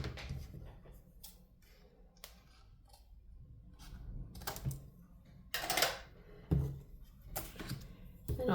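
Scissors snip through material in several separate crisp cuts, fairly close, with quiet handling noises between them.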